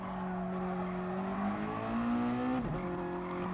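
A Mazda MX5 Modi-5 Cup race car brakes hard into a corner at Kirkistown circuit, its steady, close engine note sliding in pitch, with a brief dip and squeal mid-corner and no voices.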